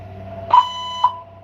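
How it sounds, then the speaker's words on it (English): A fire alarm sounds two sharp electronic tones over a low background hum, the first longer, the second a brief chirp about half a second later. "there's a fire alarm going off"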